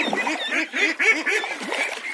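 Small ducklings, about seven weeks old, quack in a rapid, overlapping series of nasal calls, close and fairly loud.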